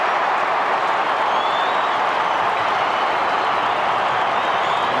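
A large crowd cheers and applauds steadily at a 1998 AFL football match between Collingwood and Essendon after a goal, a dense and loud roar of clapping with no breaks.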